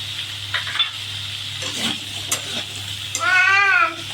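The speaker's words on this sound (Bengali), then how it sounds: "এবার সব একসাথে ভালো করে কষিয়ে নেব।" Sweet pumpkin with raw chickpeas and salt being stir-fried in a pan: soft scraping stirs and a faint sizzle over a low hum, with a short bleating, animal-like cry near the end.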